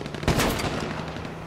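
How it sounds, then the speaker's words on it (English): A single sniper shot in the battle royale game H1Z1, one sharp crack with a short rumbling tail, moderately loud and somewhat distant. "Sniper just shot at me."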